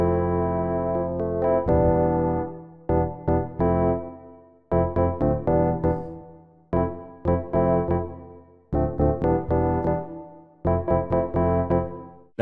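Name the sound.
wavetable Rhodes piano synth preset called Paris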